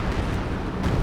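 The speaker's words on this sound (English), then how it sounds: "Some big artillery coming down." Heavy artillery barrage in Company of Heroes 2, a dense, continuous low rumble of overlapping explosions with a couple of sharper bursts, loud and sustained throughout.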